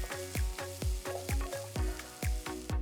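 Onions frying in a pan with ginger garlic paste and finely chopped tomato for a mutton brain masala, a steady sizzle broken by a regular rhythm of sharp stirring scrapes about every half second, close and moderately loud.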